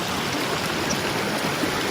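Mountain stream on the trek route from Fairy Meadows toward Nanga Parbat, water rushing steadily as a dense, continuous broadband roar with no pauses, close and fairly loud throughout.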